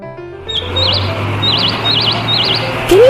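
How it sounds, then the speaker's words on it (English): Several bright, close bird chirps in quick repeated bursts over a low steady hum, ending with a rising squeak. "So many birds on that tree."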